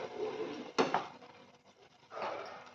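Cooked apples being lightly mashed in a pan for apple chutney, with a sharp clank of utensil against metal and scraping, squishing strokes close by, no voices.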